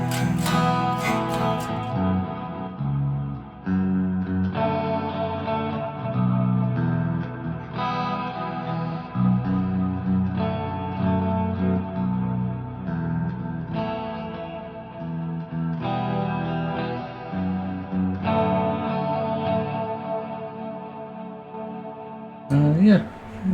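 An eight-string Cort KX508 MS II electric guitar plays heavy distorted riffs through effects with chorus and echo, thick, low and sustained in chugging phrases with brief breaks, continuing for over twenty seconds.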